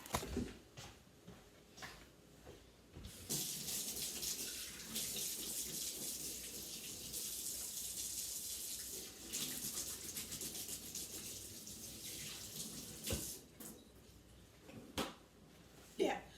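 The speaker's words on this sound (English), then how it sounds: "You get to see me wash my hands." Hands washed under a running tap in a home sink, a steady rush of water in two long stretches between brief clatters and quieter handling, faint and close.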